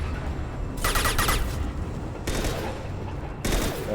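Gunfire from the video game Mass Effect 2 rattles out in three loud bursts of rapid shots separated by short pauses, with faint background game noise between the volleys.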